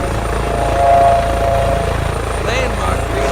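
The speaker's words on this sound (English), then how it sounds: "The fenestrone or just the helicopter sound?" A helicopter with a fenestron ducted tail rotor in a flight simulator, on a medevac flight over a city, gives a loud, steady turbine and rotor drone with tonal whine, while someone talks over it.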